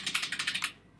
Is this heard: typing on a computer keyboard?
yes